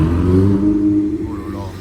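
A V8 supercar on a street in Monaco revs nearby, a loud, deep rumble that swells briefly and then eases off within a couple of seconds.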